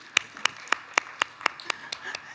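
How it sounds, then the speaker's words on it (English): At a conference session, as panelists walk up to take their seats, an audience gives about nine sharp, evenly spaced claps in a steady rhythm, fairly close and clear, with a faint murmur underneath. "Please give them a round of applause as they come up."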